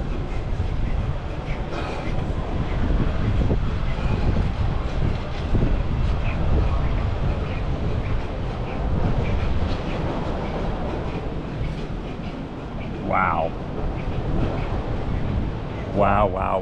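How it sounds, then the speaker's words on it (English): Train passing far off beside a Busch Gardens roller coaster construction site, heard as a low, steady rumble with wind noise, plus a few faint higher squeals near the end. "there goes a train in the background way over there"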